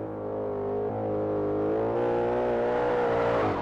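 A sports car of nearly 700 brake horsepower in Forza Horizon 5 drives with a steady loud engine note that climbs gradually in pitch while drifting, and no talk can be heard over it.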